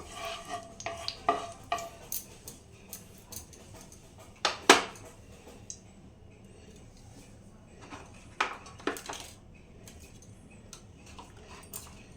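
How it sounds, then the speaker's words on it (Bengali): Dry red chillies crackling in hot mustard oil in a kadai on a gas stove: scattered sharp pops and ticks over a soft sizzle, with a few louder spits, close and unaccompanied by talk. "দুটো লঙ্কা ফাটিয়ে নিয়েছি শুকনো লঙ্কা"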